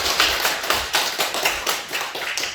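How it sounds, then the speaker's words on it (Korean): In a Korean church, a congregation claps together in a brisk, fairly rhythmic pattern of close, sharp hand claps. The claps stay steady for a couple of seconds with no voices over them. "우리 믿음 안에 잘 자라로 박수로 한번 격려해 주셨으면 좋겠습니다."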